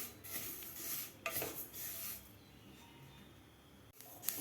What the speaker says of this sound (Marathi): असा तडतड आवाज येत आहे